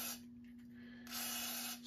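WD-40 lubricant hisses from an aerosol can onto the cylinder of a 1943 Gravely Model L engine, in two close, steady bursts with a short lighter pause between them and a constant hum underneath.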